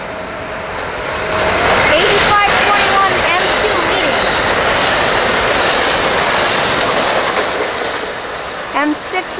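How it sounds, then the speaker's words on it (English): An express train roars past at speed through Southport, its rumble swelling quickly and holding loud and steady before easing, with faint rail clatter near the end. "Here comes a train, probably express right through."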